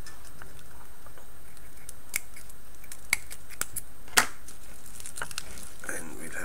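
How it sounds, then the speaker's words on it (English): Scattered snips and crinkles of small scissors cutting a chocolate wrapper, a handful of sharp clicks over a quiet background. "Let me get out my little scissors."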